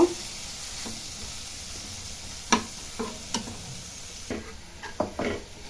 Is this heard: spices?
yes